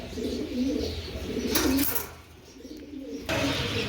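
Pigeons cooing in a loft, a few soft repeated coos close by, with rustling and brief bursts of handling noise between them.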